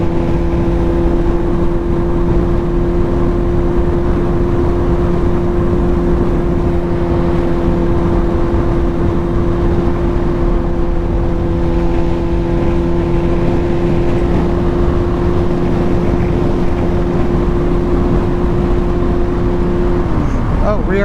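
Steady, loud engine drone and wind rush from a motorcycle cruising at speed in sixth gear on rural Kansas roads, a constant tone holding throughout.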